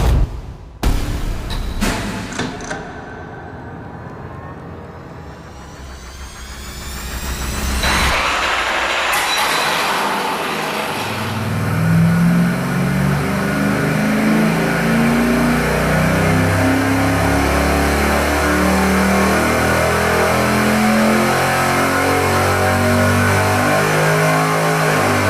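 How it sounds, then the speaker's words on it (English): A V8 engine with cast iron exhaust manifolds fires up on an engine dyno for a baseline power test, starting with a few sharp bursts, then building into a loud, sustained, steady roar that holds high through the rest of the run. "We're ready to fire up our baseline with the cast iron manifolds."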